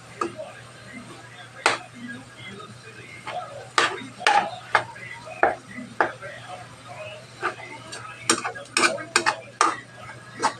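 Ground pork being stirred and cooked in a pan, with a spatula clinking and scraping against the metal in scattered sharp knocks over a faint low hum.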